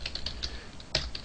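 Fingers type Java code on a computer keyboard in a burst of quick, irregular keystrokes, close and clear, with one sharper tap partway through and no talking.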